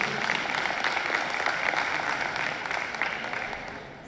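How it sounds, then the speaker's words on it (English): Audience applause at a university student services awards ceremony, a steady wash of many hands clapping from a moderately distant crowd that tapers off slightly at the end. "A round of applause."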